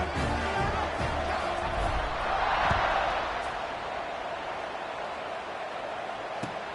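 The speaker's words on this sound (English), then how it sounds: "this crowd is buzzing after that last score" A football stadium crowd buzzes as a low, broad, steady murmur of many distant voices that swells slightly and then eases off.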